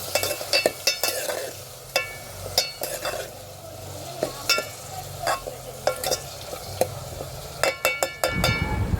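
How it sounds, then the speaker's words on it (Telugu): Onions and curry leaves frying in rice bran oil in a pan, a steady sizzle under repeated sharp scrapes and clinks of a spoon stirring against the metal, close and clear, with no talk. "ఇక్కడ ఉల్లిపాయలు బాగా మగ్గాలండి"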